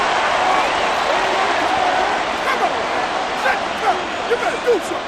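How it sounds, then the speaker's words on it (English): A large football stadium crowd at an NFL Sunday Night Football game between the Philadelphia Eagles and Dallas Cowboys reacts to a penalty flag with a dense, sustained roar of voices, loud and steady, with some sharper shouts rising from the mass. "Well, the crowd doesn't like that."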